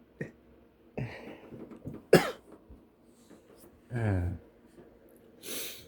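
Several harsh coughs and throaty bursts spaced apart, with sharp breaths and gasps between them, close and fairly loud.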